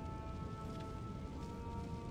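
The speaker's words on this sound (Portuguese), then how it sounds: "É que tá chovendo aqui." Rain pours steadily in the video game Elden Ring, a soft continuous patter of drops on surfaces with a faint background tone, even and unbroken, with no one speaking.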